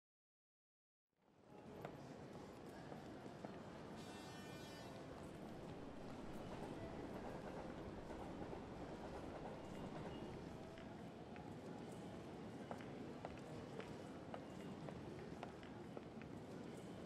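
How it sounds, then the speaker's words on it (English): Inside a train arriving at a station, a steady low rumble of rolling carriages fades in and holds, quiet and continuous, with faint rhythmic clatter. "You are sitting on a train that is about to arrive at the next train station."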